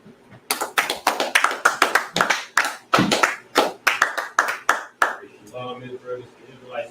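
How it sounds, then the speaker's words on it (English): A class claps together in a room, a run of about fifteen loud, sharp hand claps in a loose rhythm over five seconds, then tapering off into faint background murmur. "All right, let's go ahead and clap it up."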